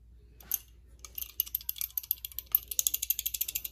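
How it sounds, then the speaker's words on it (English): A 6-inch Crescent adjustable wrench having its jaw adjusted, giving a close, rapid train of small metallic ratcheting clicks that starts sparse, then speeds up into an even, fast clicking run. "Come on, crescent. Why are you making so much noise?"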